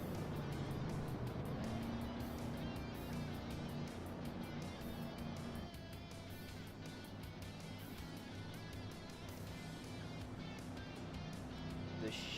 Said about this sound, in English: The Chevy Silverado pace truck leading the way under caution here for the first time tonight